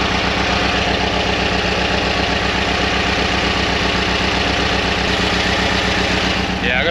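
Engine idling roughly with a blocked idle jet on the number one cylinder, a loud, close, steady pulsing chug that stays even throughout, with a voice heard over it.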